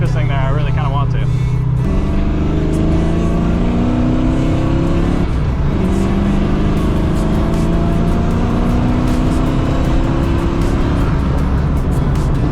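A 1990 Ford Foxbody driven from the cabin: the engine roars loud and close, revving up through the gears with rising pitch and clear shift breaks, tires and road noise underneath, and someone talking over it.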